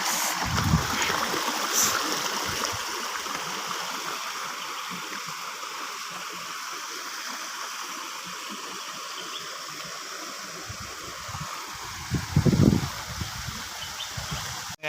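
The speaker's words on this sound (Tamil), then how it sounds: "பார்த்தீங்கன்னா இன்னும் இங்கே தண்ணி எவ்வளோ தண்ணி வந்துட்டுருக்கு" Water rushes along the stream at Kallaru waterfall near Salem in a steady, close, broadband wash with no break, and a brief louder splash or gurgle rises near the end.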